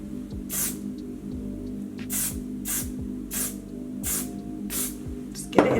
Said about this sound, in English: what I'm gonna do is just spray right here.